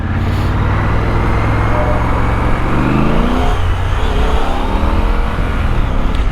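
Triumph Scrambler 1200 XE motorcycle on its stock exhaust, revving hard and pulling through the gears on the road, a loud close engine roar rising and falling in pitch with wind rush.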